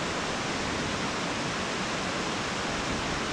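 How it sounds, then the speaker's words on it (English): Cove Creek Falls, a roughly 50-foot waterfall in Pisgah National Forest near Brevard, North Carolina, gives off a dense, constant broadband roar of falling water, close and loud, with no voices. "This is Cove Creek Falls, located in the Pisgah National Forest"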